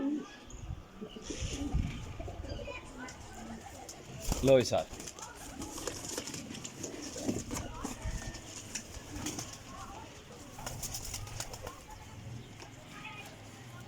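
Rampuri pigeons coo softly in the background of a loft while someone talks nearby, with scattered wing flutters and a busy ambient murmur.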